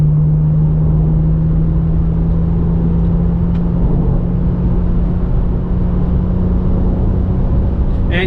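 A BMW M3 E46 Convertible's engine drones loud and close in a steady, heavy low hum with a strong tonal note and road rumble, holding an even level throughout.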